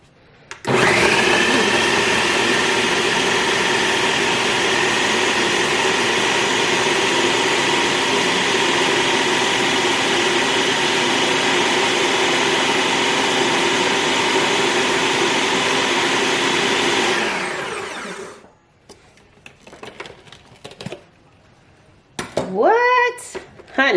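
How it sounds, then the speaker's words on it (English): A blender runs loud and steady for about seventeen seconds, mixing unsalted butter with cookies and jello for a strawberry cheesecake filling, then cuts off, followed by faint clatter and a brief voice. "you want to blend this until that butter is well incorporated with those cookies"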